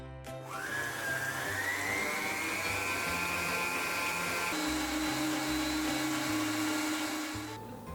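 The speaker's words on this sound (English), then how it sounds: "So now we have to quickly whip up our egg whites" A handheld electric mixer whips two medium egg whites for Spanish turrón, a loud continuous motor whine rising in pitch as it speeds up, then dropping to a lower steady drone before cutting off near the end.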